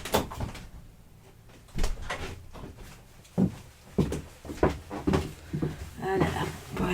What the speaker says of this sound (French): Un petit instant, je vais fermer ma porte.